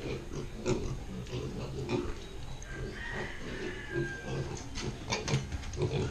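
A surviving piglet on a farm grunts and oinks repeatedly, close up, over a steady noisy background, the snuffling grunts coming in irregular short bursts throughout.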